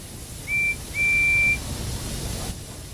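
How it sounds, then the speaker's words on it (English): A guard's whistle on a cartoon railway as two steam engines set off: two clear, steady blasts, a short one then a longer one, over a quiet hissing background. "Just then, the guard's whistle blew and the two engines set off."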